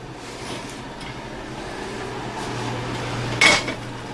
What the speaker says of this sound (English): put a lid on there, turn that off, slide it back there to keep it going